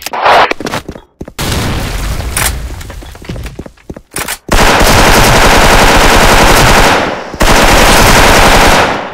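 Rapid, loud automatic fire from an M4A1 rifle in the shooter game Soldier Front, in long sustained bursts broken by short pauses, heard alone without talk.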